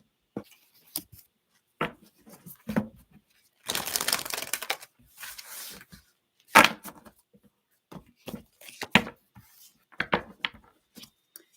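Tarot cards are shuffled by hand in a quiet room, with irregular bursts of riffling and soft snapping slaps spread across the clip, some longer rustling passages between sharp individual clicks.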